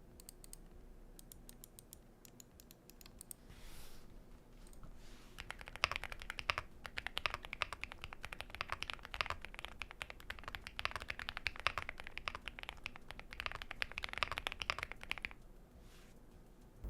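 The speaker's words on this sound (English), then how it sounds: "my keyboard is a Yunzi AL75 with Glorious Link switches and a custom Torii Gate Artisan keycap." Rapid typing on a Yunzi AL75 mechanical keyboard fitted with Glorious Link switches, a dense run of close clicky keystrokes lasting about ten seconds after a quiet start, then trailing off.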